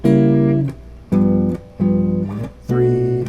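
Guitar chords from a jazz blues progression built around a diminished chord, four strums in succession, each ringing briefly before being damped, clear and close.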